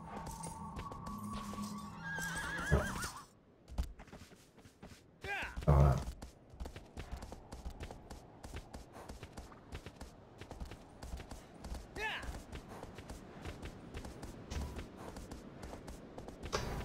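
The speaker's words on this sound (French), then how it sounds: "J'aime bien aussi le fait que le cheval avance tout seul." A horse in the game Shadow of the Colossus moves along at a walk, with a whinny and soft hoof falls heard under someone talking and game ambience.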